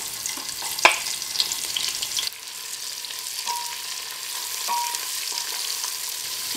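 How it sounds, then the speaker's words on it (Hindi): Onions sizzling and frying in hot oil for a khada masala mutton stew, a loud crackle as they drop into the pan at the start, then a steady hiss with light stirring scrapes, no voices. "अब हम इसमें अपनी प्याज डालेंगे।"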